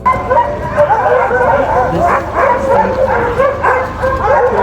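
Huskies at a sled dog safari in Tamokdalen Valley near Tromsø bark, yip and whimper excitedly in overlapping bursts, loud and close, with several dogs calling continuously.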